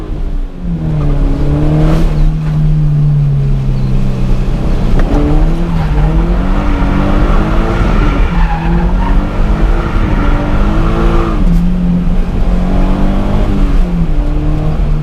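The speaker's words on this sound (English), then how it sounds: "here's some gratuitous drifting footage around Clio Raceway on the E85 tune" A Subaru BRZ on an E85 tune drifts around Clio Raceway, its engine revving hard and rising and falling continuously while tires squeal and skid throughout, loud and close.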